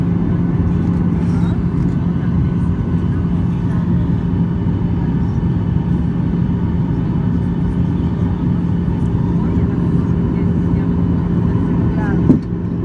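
Steady broadband cabin roar inside a Norwegian Boeing 737-8JP on approach to Stockholm with the landing gear down, a loud continuous engine and airflow rumble with a low hum and a brief clunk near the end.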